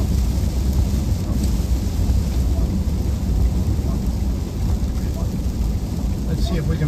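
Rain and wind from Tropical Storm Alberto around Rockport, Fulton and Lamar, Texas, a loud continuous roar of downpour and gusts buffeting the microphone, with a low rumble of thunder underneath and no clear talk.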